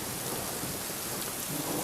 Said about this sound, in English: Ah, the hail hurts. It's so bad.